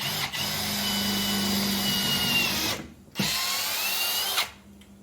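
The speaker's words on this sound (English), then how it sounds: "Then I flip it over and drill through the other side." A power drill whines steadily while boring through a metal axe head, pausing briefly mid-way before spinning up again and then winding down near the end.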